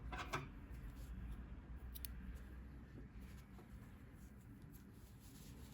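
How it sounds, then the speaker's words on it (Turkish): Scissors snip crochet yarn with a couple of faint, brief, close cuts over quiet room background, and no talking. "İpliği kesiyorum."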